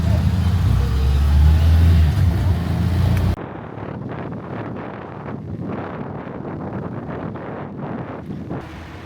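A rented scooter rides along on Sibuyan island in the Philippines. Heavy wind buffets the microphone over an engine rumble for about three seconds, then it cuts to a quieter engine drone with voices talking over it.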